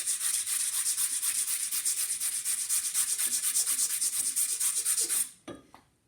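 A file card scrubs brass residue out of the teeth of a metal file in steady, rapid rasping strokes, loud and close, then stops abruptly near the end with a couple of faint scrapes.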